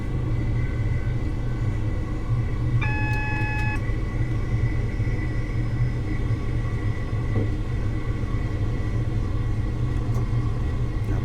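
A Class 170 diesel multiple unit coasts along the Peterborough to Cambridge line in Train Simulator, a steady low rumble of wheels and cab noise, with a brief tonal warning chime partway through.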